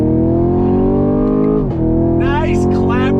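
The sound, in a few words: 2022 Chevy Camaro SS accelerating, exhaust note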